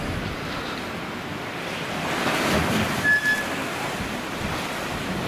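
High-tide waves at Watchet break and splash against the shore. A constant rushing surf is mixed with wind buffeting the microphone, and a louder surge lands midway.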